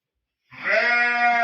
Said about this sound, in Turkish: Kuzuyla anası birlikte.